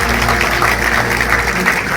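An audience at a convocation ceremony at a government middle school in Bihat applauds a guest, giving a steady wash of clapping over a low electrical hum that holds for the whole stretch.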